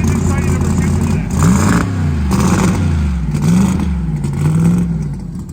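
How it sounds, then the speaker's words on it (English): A drag-and-drive racing car with a Steve Morris engine revs loudly at a dragway, its deep, wavering engine roar rising and falling continuously while someone talks over it. "I don't know if you can hear me over the sound of glorious Steve Morris horsepower"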